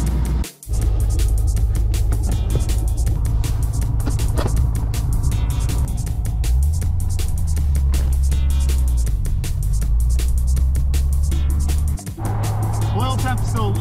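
A 1993 Corvette with new U-joints and half shafts on a test drive, its engine a steady low rumble throughout with a brief dip and shifting tone midway, people talking over it inside the car.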